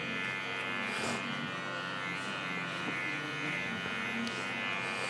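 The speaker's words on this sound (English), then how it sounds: "I'm climbing up the clipper and I'm scooping it out" Electric hair clippers buzzing steadily up close while cutting hair during a men's choppy-style haircut, a continuous hum with slight scraping variations and no talking.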